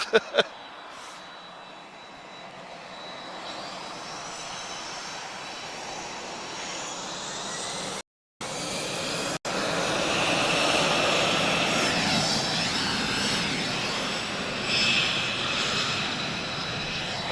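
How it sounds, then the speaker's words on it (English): Jet airliner with GE CF6 engines at Lisbon Airport, a broad, steady roar that swells and holds loud, briefly cut by a short gap, then continues strongly to the end. "I can still hear CF6 engines above everything else."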